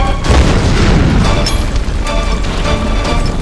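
A loud, booming explosion in the video game Tomb Raider Definitive Edition, with a heavy low rumble that sustains across the clip and sharper crackling bursts on top.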